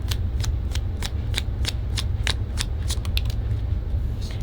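Tarot cards are shuffled to pull clarifiers in a rapid, continuous run of close riffling snaps over a low background hum.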